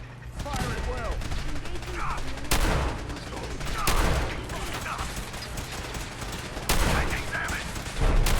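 Dense, continuous gunfire from Fallout 4 combat, with sustained rapid shots and several louder bursts standing out, loud and close amid shouted voices and game noise.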